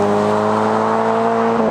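Toyota GT86 engine and aftermarket exhaust held at a steady loud rev, a strong continuous droning tone with rich harmonics lasting throughout, close by and alone.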